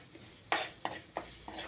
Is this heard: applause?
no